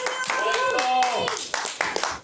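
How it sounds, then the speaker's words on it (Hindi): A group of people claps in short bursts while voices talk prominently over them, the hand claps sharp but partly covered by the speech. "एक बार ताली बजा दो सब लोग।"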